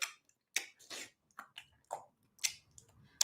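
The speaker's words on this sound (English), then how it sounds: "You smacking so hard." Someone chews loudly with wet lip smacking, in a series of sharp, irregular smacks and squishes close to the microphone against near silence.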